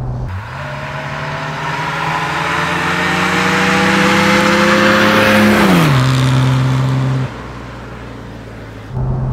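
A 1969 Mercedes 280 SL Pagode revs up as its engine pitch climbs steadily under acceleration, then drops back after a gear change and settles into a loud, close, smooth drone.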